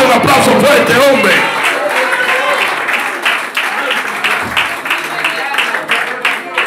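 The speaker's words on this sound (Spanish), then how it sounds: "Dale un aplauso fuerte, hombre." Congregation applause during a church sermon, loud and sustained clapping filling several seconds, with a voice occasionally rising over the crowd.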